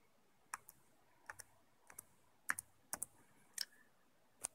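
Computer keystrokes typing a short search on a Windows 10 PC, about ten sharp clicks in small clusters, close and fairly quiet against a silent room.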